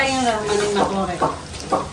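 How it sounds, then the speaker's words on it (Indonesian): Sausages frying in a pan at a street food stall, a steady sizzle with soft stirring scrapes under nearby talk. "Ini goreng sosis sama"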